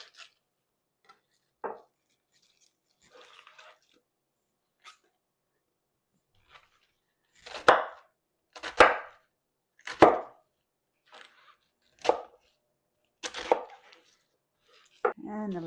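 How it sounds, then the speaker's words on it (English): A knife slices through cabbage on a board: a series of sharp, separate cuts, sparse at first and then coming every second or so, close and clear against a quiet background. "just turn it over and make slices"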